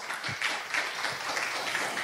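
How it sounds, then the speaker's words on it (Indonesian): An audience at a talk event in Semarang gives a moderate round of applause, the clapping fairly soft and scattered over two seconds. "Tepuk tangan buat Pak Bangkit."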